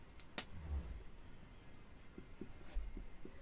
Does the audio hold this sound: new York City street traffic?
no